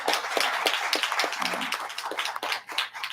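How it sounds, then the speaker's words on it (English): An audience at a school board public session claps for a student, a faint, steady patter of many hands with individual claps standing out, continuing without talk. "You should give yourself a round of applause."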